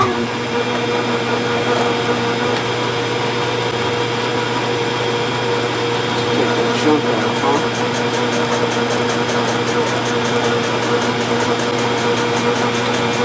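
Old Logan metal lathe running steadily on auto feed during machining work on Husqvarna chainsaw case parts, a loud, continuous motor and gear whine with a constant hum, with someone talking over it.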